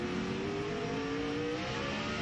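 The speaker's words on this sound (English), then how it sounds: "you might be able to hear the engine when he stands on it." A race car engine at the 2001 Winston All Star Race roars steadily, loud and close, its droning pitch climbing slightly as it revs, with no voices.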